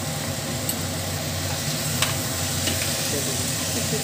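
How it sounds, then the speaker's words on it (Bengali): Eggs dropped into a pan of sizzling masala and potatoes for egg biryani: a loud continuous frying hiss with scattered crackles and a few sharp pops, close up and without talk. "তারপর এরপর দিয়ে দিব ডিমটা, ডিমটাকে ছেড়ে দিব"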